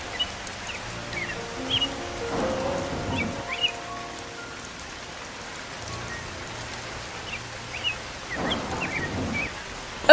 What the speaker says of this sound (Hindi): ये कैसे समय में राजा ने भोज चुना? बारिश हो रही